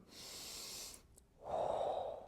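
A slow, deep breath is drawn in and then let out in a calm breathing exercise, close and soft, with a brief pause between the inhale and the exhale and no talk.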